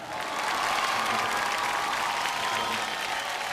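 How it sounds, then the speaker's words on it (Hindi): An audience applauds Amitabh Bachchan at a public event, a dense, steady wash of clapping that holds loud and even throughout. "एक बार जोरदार तालियां फॉर अमिताभ बच्चन।"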